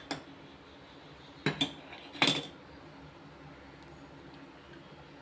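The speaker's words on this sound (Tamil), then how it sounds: "இது 1 நிமிஷம் அப்படியே கலக்கிட்டே இருங்க." A metal spoon scrapes and clinks a few times against a pan of milk being stirred for ice cream in a quiet kitchen, with short pauses between the taps.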